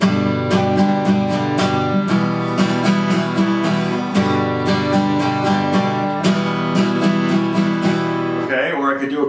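Close, ringing acoustic guitar chords strummed in a steady pattern of a quarter, four eighths and a quarter, mixing longer strokes with quicker ones, ending with a brief rustle.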